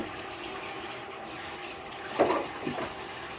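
Hot tap water running steadily into a kitchen sink in Japan while dishes are washed, with a brief splash and clatter partway through, fairly close and with no talking.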